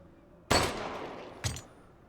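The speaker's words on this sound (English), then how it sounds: "Thankfully, she doesn't hear gunshots." Two loud, sharp gunshots ring out about a second apart in Resident Evil Village, each with a short decaying tail, heard alone without talking.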